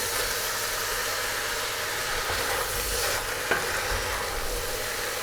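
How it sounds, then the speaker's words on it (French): Carrots, onions and garlic are sautéed in a pot for a lamb and chestnut stew, producing a constant, dense sizzle with a brief stirring clink partway through, heard up close. "on va verser carottes, oignons et ail. Et pareil, on va faire revenir pendant 5 minutes"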